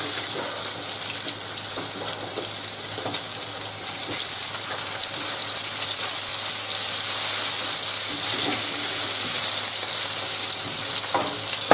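Salmon fillets sizzle steadily in a hot frying pan after being flipped, a continuous close crackling hiss with occasional light clicks and scrapes, no voices.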